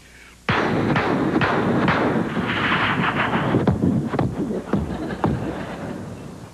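A voice mimics cannon fire in a comic duck-hunting sketch on a country music variety show: loud booming blasts with rumbling noise between them, spaced irregularly over several seconds, with no talk.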